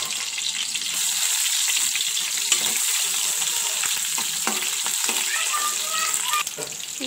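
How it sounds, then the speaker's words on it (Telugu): Cumin, small tomato pieces and ginger sizzle and fry in a pan for a curry, a steady close hiss with occasional stirring scrapes and crackles throughout, no voices. "జీలకర్ర ఫ్రై అయ్యాక చిన్న 2 టమాటా పీసులు వేసుకొని అల్లం వేసుకోవాలి"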